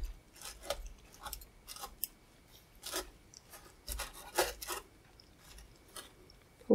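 Scissors snipping through tacking stitches on embroidery fabric, a series of soft close clipping and rasping sounds spaced irregularly, fairly quiet with no talk.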